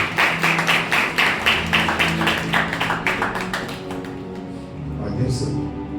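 A church congregation at a Christmas fellowship service claps loudly and steadily in a fast, even rhythm. Music plays underneath, and the clapping thins out toward the end.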